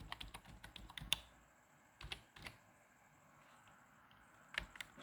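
Soft key clicks from a computer keyboard while a Wi-Fi password is entered, arriving in a few short sparse clusters with quiet gaps between them.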